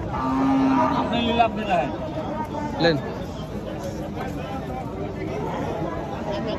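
Cattle low at a busy cattle market, a drawn-out moo standing out over a constant crowd babble and nearby chatter.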